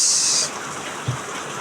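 Heavy rain falls outside in a steady, even hiss that starts a little louder and then settles, with no voices over it.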